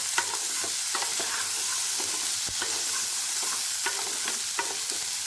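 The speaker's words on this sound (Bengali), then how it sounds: "এই দুটোকে এখন আমি আবার আরেকটু সময়ের জন্য ভেজে নেব।" Small potatoes and green peas fry together in a pan, a steady near sizzle with regular knocks and scrapes of a spatula stirring them, and no one talking.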